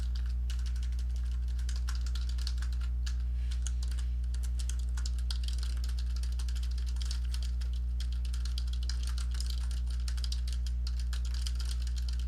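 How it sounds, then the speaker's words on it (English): Steady keyboard typing runs throughout, a continuous patter of keystrokes over a strong low mains hum, fairly quiet and with no one speaking. "I hear someone typing"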